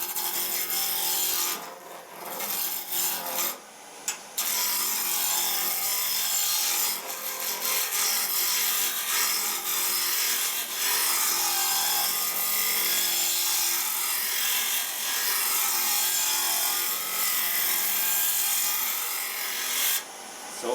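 A wooden handle being roughed to round on a lathe with a gouge: loud continuous scraping and rasping of the cutting edge on spinning wood, with brief breaks near the start, close and alone.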